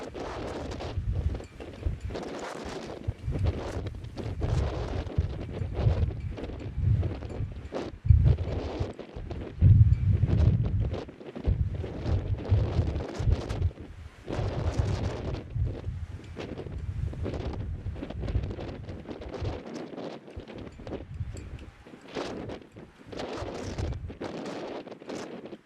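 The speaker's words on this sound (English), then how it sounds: "We are really getting some serious wind now." Strong outdoor wind buffets the microphone at a 9th-grade baseball game, producing continuous low rumbling gusts that surge and fade for the whole stretch, with no voices heard.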